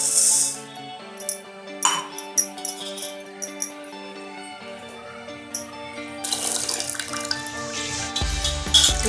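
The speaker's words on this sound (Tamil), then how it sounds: "ரெண்டு தடவை நல்லா கழுவிட்டு ஊற வச்சிருவோம்." Rice is rinsed in water before soaking, with tap water running into a vessel, sloshing and dripping, plus light clinks of grains and the pot, close and intermittent before a louder rush of pouring at the end.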